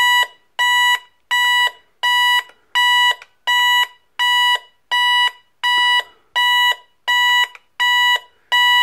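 A carbon monoxide detector sounds its alarm as a loud, shrill electronic beep that repeats steadily about a dozen times in evenly spaced pulses, close by, with no talking.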